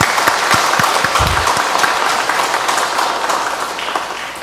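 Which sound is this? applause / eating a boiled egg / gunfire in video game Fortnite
applause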